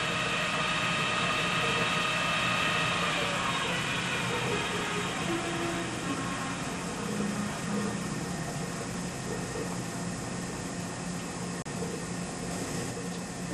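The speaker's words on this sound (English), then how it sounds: "Listen to this. There's dressing speed. Have you ever heard anything so quiet?" A Cozart feedwheel system running at dressing speed: a faint, steady, even hum with no spikes, quiet and continuous from start to finish.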